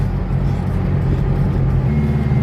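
Land Rover 4WD engine labouring on soft beach sand, a steady low rumbling drone held at moderate revs, close and continuous without speech.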